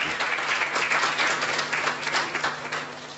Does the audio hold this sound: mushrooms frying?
no